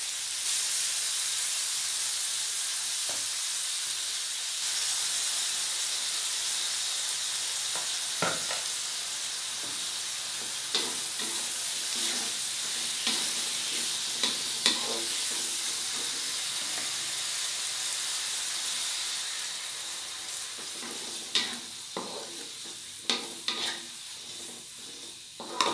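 Shrimp is stir-fried with sweet soy sauce, salty soy sauce and oyster sauce, giving a continuous loud sizzle and hiss. Spatula scrapes and clacks against the pan come through repeatedly.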